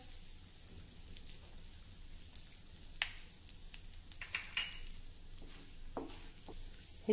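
Cumin, asafoetida and fenugreek seeds sizzle faintly in hot oil in a pan, a soft steady crackle with scattered pops and small spattering clicks, no talking.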